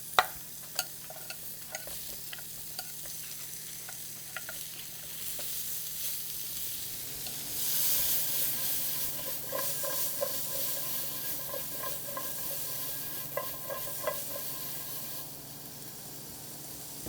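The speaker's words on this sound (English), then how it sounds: "Going to add some of our onions and apples to this." Onions and apples sizzle in a skillet with pork chops, a steady hiss that swells after being stirred, with occasional clinks and scrapes of a utensil against the pan, close by and without talk.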